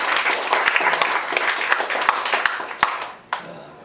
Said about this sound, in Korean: 우문현답을 하셨어요. 박수 치시죠.